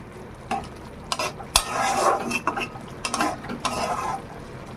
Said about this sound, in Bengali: আবারও নাড়াচাড়া করে একটু ঢাকা দিয়ে দেবো